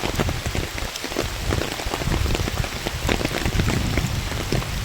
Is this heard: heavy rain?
yes